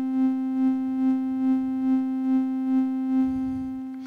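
SOMA SimplexFM synthesizer cycling its envelope with a short period: a sustained harmonic drone pulsing evenly about twice per second, about eight swells, then fading as a low rumble enters near the end.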